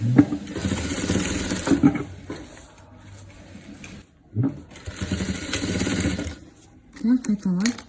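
Sewing machine running in bursts while stitching over velour fabric for a 3D pillow, with steady mechanical whirring broken by pauses and a person speaking between the passages.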